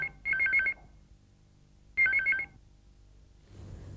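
Telephone ringing in two short bursts of rapid trilling electronic rings, spaced about two seconds apart, fairly loud and close with a quiet room between rings.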